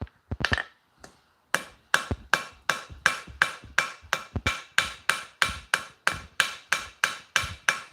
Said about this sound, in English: I should have preheated my anvil, Roy.